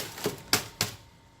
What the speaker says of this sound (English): I bang it so I loosen it, and then it's soft.